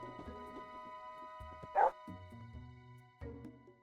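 A therapy dog in the video game Therapy Simulator gives a few soft, quiet barks and yips, one sharper bark in the middle standing out against faint background game sounds.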